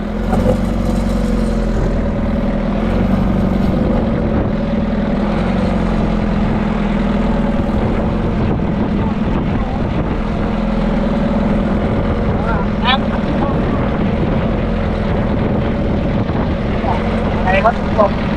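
A steady low fishing boat engine drone runs throughout, with a constant hum and a few faint higher chirps near the end, heard from on board at sea in the evening.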